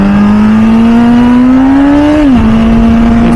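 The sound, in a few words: 2007 MV Agusta F4 Senna inline 1000cc motorcycle exhaust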